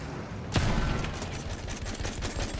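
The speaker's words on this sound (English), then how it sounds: "It's an enemy machine gun." Enemy machine gun fire in the video game Landship, a sudden loud burst followed by dense, continuous rapid shots forming a steady rattling barrage with no voices.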